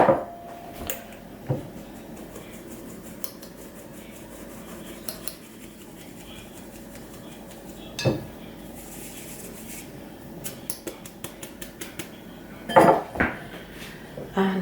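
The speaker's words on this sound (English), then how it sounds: "we'll start by sieving the flour" Flour being sieved into a bowl for a Christmas cake: sporadic soft taps and light clinks of the sieve against the bowl, close by, with a faint rustle between strikes in an otherwise quiet kitchen.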